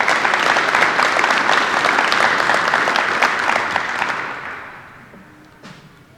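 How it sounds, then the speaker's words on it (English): Audience applause at a high school athletic hall of fame ceremony, a dense steady clapping from a large crowd that holds for about four seconds, then thins and fades out. "Please give them a round of applause"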